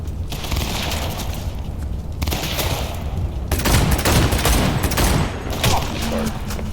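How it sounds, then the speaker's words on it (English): Enemy gunfire in Cyberpunk 2077 on Xbox Series X, a dense, loud fusillade of rapid shots that swells and continues throughout, with brief lulls between bursts. "They're just shooting at me."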